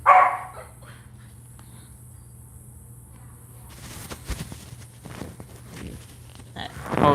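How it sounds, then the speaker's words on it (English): A dog barks in a home, with a few sharp barks at the start and end and scattered softer barks and movement in between, fairly faint and somewhat distant. "That's why my dog is barking."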